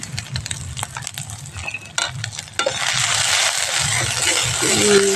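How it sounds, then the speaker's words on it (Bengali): Spices with turmeric powder and salt fry in a pan for a potato and egg dish, a soft crackling sizzle that swells louder partway through, with light scraping of stirring. "ভালো করে ভেজে নেব।"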